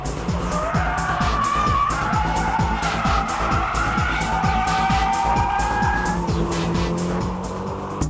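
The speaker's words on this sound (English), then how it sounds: "This well-balanced S14 Silvia goes into braking drift by a light touch of braking and smooth steering work." A Nissan S14 Silvia in a braking drift, engine revving hard with a rapid pulsing rhythm as tires skid and squeal continuously, loud and close, fading slightly at the end.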